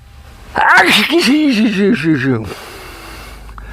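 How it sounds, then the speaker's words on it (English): A single loud, voiced sneeze with a sharp gasping intake and drawn-out burst, close up, followed by quiet room noise. "I think that might be my first official YouTube sneeze"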